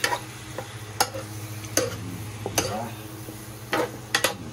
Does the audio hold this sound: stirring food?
yes